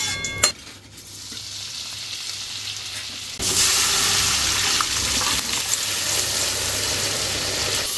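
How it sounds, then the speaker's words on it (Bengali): Grated coconut lightly frying in a pan of oil with whole spices for cholar dal, a steady loud sizzle that jumps up sharply partway through and stays bright and continuous to the end, with no voices. "তো নারকেলটা হালকা ভেজে নেওয়া হচ্ছে, তারপর ডালে অ্যাড করা হবে।"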